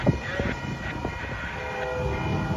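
A CSX freight train crosses Concord Street and nears Nevins Yard in Framingham. Heard from a distance, it is a faint mix of low rail rumble and clatter that continues through the brief moment.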